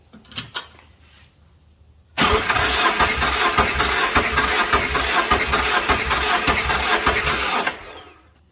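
A twin-turbo Subaru Legacy 2.0L engine cranks loudly with a steady, rhythmic chugging for about five seconds during a cylinder test, then cuts off; a few faint knocks come before it.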